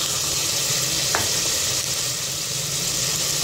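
Minced keema fries in a pan, giving a steady, broad sizzle that runs throughout, with one brief utensil scrape or stir partway through and no talking.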